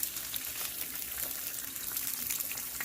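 An egg fries in a pan, giving a soft, steady sizzle and crackle with small pops, fairly quiet and alone without talk.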